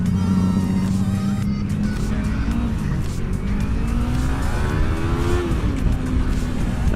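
A Yamaha MT 300 cc motorcycle accelerates hard with a loud, continuous engine roar whose pitch climbs and shifts through the gears, close and steady throughout with no talking.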